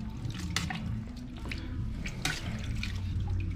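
Tamarind pods soaked five hours in limewater are rinsed in running water for a candied-tamarind recipe, giving a steady close splashing and trickling with a few sharper drips over a low rumble.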